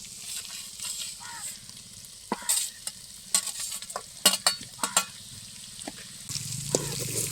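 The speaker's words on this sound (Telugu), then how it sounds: "ముందుగా ఉడికించి పెట్టుకున్న ఉల్లగడ్డల ముక్కలు మసాలా వేసేస్తున్నా" Precooked onion pieces and masala stirred into chicken curry in a pan, with irregular scraping spatula strokes over a soft sizzle and a brief murmur of voice near the end.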